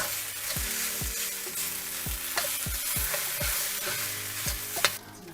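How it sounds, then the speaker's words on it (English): Rice tossed in a pan with soy sauce, black pepper and vegetables: a close, steady sizzle with regular, roughly once-per-second knocks and scrapes of a utensil stirring, no speech. "Mix this together and make sure we coat it all evenly with those soy sauce."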